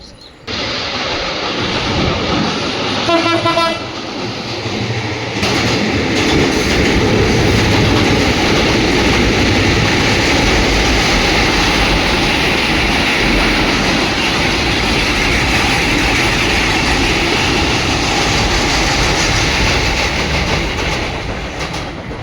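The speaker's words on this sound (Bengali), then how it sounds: "ট্রেন আসবে এখন" A train crosses a bridge near Solap station in Sirajganj. A horn blast sounds near the start, then a loud, close, steady rumble and clatter of rolling wagons continues to the end.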